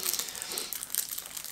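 Plastic bags from a Western Legends board game box crinkle and rustle continuously and close by, a dense, crisp crackling while the game's components are unpacked.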